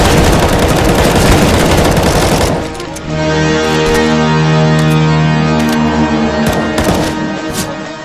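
Rapid gunfire bursts from the video game CS:GO crackle loudly, first as a dense volley and then as spaced, sharp single shots over a humming game backdrop.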